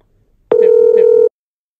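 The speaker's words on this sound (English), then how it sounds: "Let's make another call using Mary's account on a Zoiper soft phone." A call dialed on the Zoiper softphone gives a single steady electronic tone lasting under a second, clean and loud against silence.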